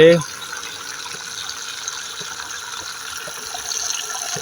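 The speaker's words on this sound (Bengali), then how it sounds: "এই যে পানি পড়তেছে, এই যে পানি পড়ে।" Water from a rooftop garden watering system falls and splashes in a steady, close gushing hiss that runs unbroken, briefly interrupted at the start by a short sharper sound.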